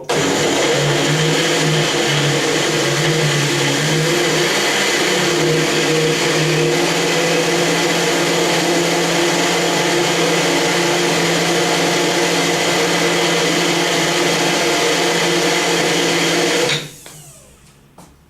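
A blender motor whirs loud and steady while blending a fruit and vegetable smoothie, its pitch wavering slightly through a long continuous run before cutting off abruptly near the end.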